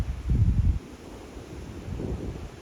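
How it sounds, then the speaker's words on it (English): Wind gusting on an exposed mountain trail, with a strong low rumble of wind buffeting the microphone in the first second, then a softer steady blowing that swells again near the end. "You can see how the wind's blowing."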